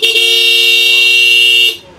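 A loud, steady horn on a Honda Activa 125 scooter blares for nearly two seconds up close, a single sustained honk that then cuts off.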